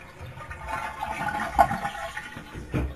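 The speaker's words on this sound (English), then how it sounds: "to drain the most of the water out of the toilet, we're going to give it a flush" A household toilet being flushed to drain its bowl during a bathroom renovation gives a rushing, gurgling swirl of water that swells and falls over a few seconds, close by, with no voices.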